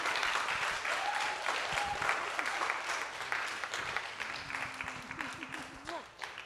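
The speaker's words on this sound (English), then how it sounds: "Please, round of applause." Audience applause at a hip hop film festival Q&A after party, a dense steady wash of clapping that holds for several seconds, then thins and fades slightly toward the end.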